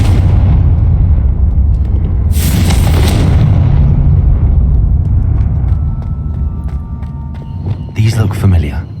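A Confringo spell explosion in the video game Hogwarts Legacy, a deep rumbling boom that swells and fades over several seconds. A sharper crackling burst follows near the end, and a voice is heard over it.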